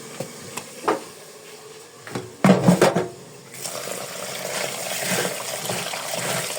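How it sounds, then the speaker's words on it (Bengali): Lentils and rice being washed in a pot under running water for bhuna khichuri: a few light clinks and drips, then a burst of close splashing, followed by a steady stream of water filling and swirling. "ধুয়ে নিই"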